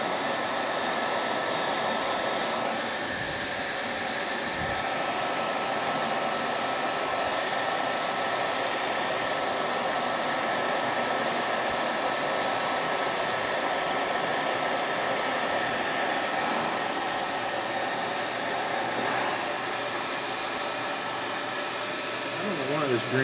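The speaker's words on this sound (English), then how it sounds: "I'm going to take my heat gun and we'll pull those out, hopefully." A heat gun blows a steady, loud hot-air roar as it shrinks wrinkled green covering film on a twin-engine stick model plane, the whoosh shifting slightly as it moves over the surface.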